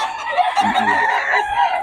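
A single loud rooster crow, close by, drawn out over a couple of seconds.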